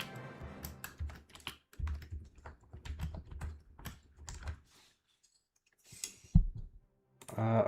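Someone types on a computer keyboard placed behind an iPad stand, close to the listener, in bursts of rapid key clicks separated by short pauses.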